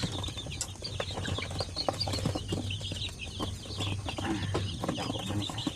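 Shamo and Aseel chickens clucking steadily in a backyard pen, several birds close by with short repeated calls over a low continuous background hum.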